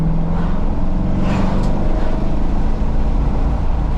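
A C5 Corvette Z06 with a 405-horsepower engine accelerating, a loud continuous low engine drone heard from inside the car, steady throughout with no talk over it.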